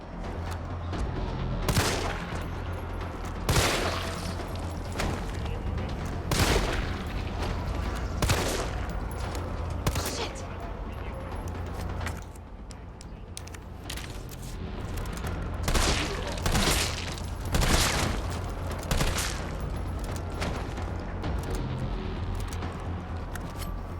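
Assault rifle gunfire in the video game Resident Evil 3 comes in repeated sharp bursts and single cracks spread across the stretch, loud over a constant game background hum.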